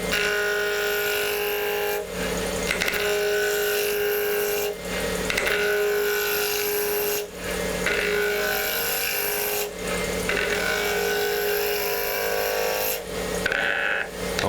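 A wood lathe spins fast while a tool roughs out a wooden drip shape, making a loud, continuous rasping scrape broken by brief pauses every couple of seconds as the cut is lifted and reapplied.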